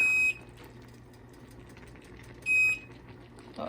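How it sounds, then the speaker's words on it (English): A kitchen timer beeps in two short, loud high-pitched bursts, one at the start and another about two seconds later, over quiet background noise while risotto is being cooked. "My timer is going off."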